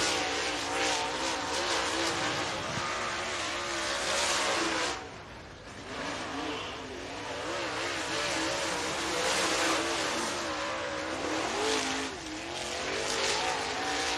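Race cars run qualifying laps at Duck River Raceway Park in Lewisburg, Tennessee, engines roaring loudly and continuously as they pass, with a brief dip before the noise swells again.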